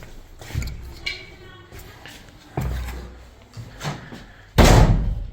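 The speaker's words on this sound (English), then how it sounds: "Whoa, slammed the door." A large, heavy door in a Georgian villa in Tbilisi slams shut with one loud, sharp bang near the end, following quieter thumps and footsteps, with a person's voice briefly audible before it.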